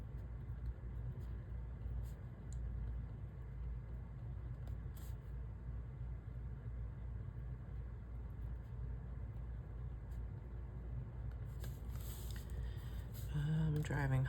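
Steady low road rumble and engine drone fill the interior of a car on the drive home from Michigan, continuous and even throughout, with a few faint clicks and a brief rustle near the end.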